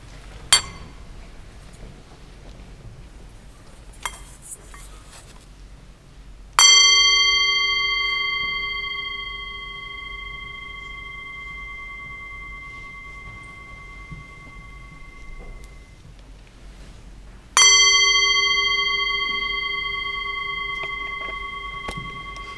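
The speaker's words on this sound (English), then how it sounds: "I'm going to ring this chime" A single chime rung in a school chapel service gives a bright, clear metallic tone that lingers and fades slowly, then rings again later with the same long decay; the room is otherwise hushed, with a few faint clinks earlier.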